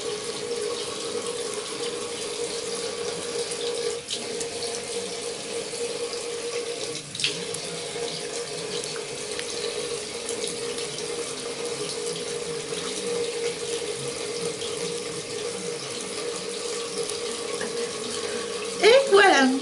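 A tap runs steadily for a long stretch while something is rinsed, a constant close hiss of water with a brief splash near the end and a voice speaking over it.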